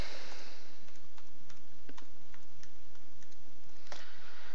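A password is typed on a computer keyboard, with a quick, uneven run of close, crisp key clicks in a quiet room.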